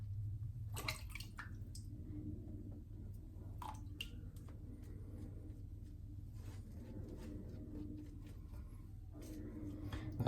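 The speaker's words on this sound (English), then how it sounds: "it makes a very nice lather" A brush works Henri Et Victoria Chestnut L'Orange shaving soap into a lather, making soft, wet squishing and swishing sounds close up at a low level, with a few light clicks and taps.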